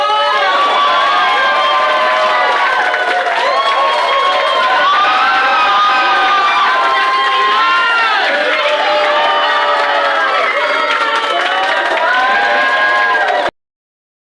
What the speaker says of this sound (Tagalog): Palakpakan kayo, palakpakan.